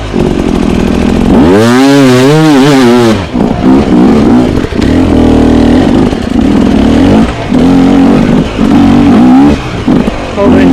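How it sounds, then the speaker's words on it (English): A trials motorcycle riding over rocky terrain accelerates hard in second gear, its engine revving loud and close with a rising and falling whine, then settling into a choppy, pulsing throttle. "Back into second. Accelerate"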